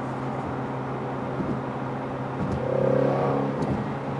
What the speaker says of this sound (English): the interior road noise just from rolling on the highway has gotten much louder since the tires are hard as a rock